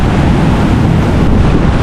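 Strong sea waves pound during a typhoon at a river mouth, a loud, continuous roar of surf mixed with heavy wind buffeting the microphone.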